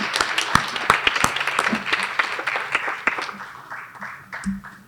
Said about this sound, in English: And a final round of applause for this amazing group of students.